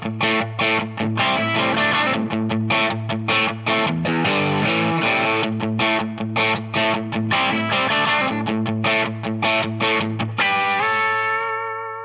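Loud distorted electric guitar plays an iconic riff, a driving repeated pattern of chugging low notes and chords over about twelve seconds, ending on a ringing sustained chord, with no talking.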